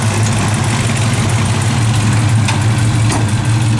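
A 1970 Chevelle SS V8 with headers and dual exhaust, said to have a header gasket leak, idles loud and close in a steady, rumbling drone throughout.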